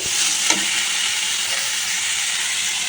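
Mixed vegetables for veggie fried rice fry in a hot pan with a loud, steady, close sizzle and one brief utensil knock near the start, and no one talks.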